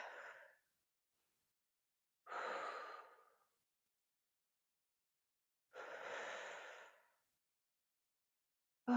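Heavy breathing while resting after a plank hold in a home workout: three long, loud exhales separated by silent pauses, with a fourth breath beginning at the end.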